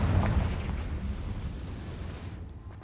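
Confringo blasting spell explosion in the Hogwarts Legacy video game: a deep, rumbling boom that hits hard at the start and rolls off in a long, fading low-end decay.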